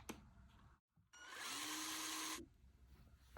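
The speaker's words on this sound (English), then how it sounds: "So I got a little thicker diameter drill. I'll drill from this side instead of this." Power drill boring a wider hole with a thicker-diameter bit for a DIY binocular tripod mount, one steady loud whirring burst of about a second and a half after a short start, then stopping, close up.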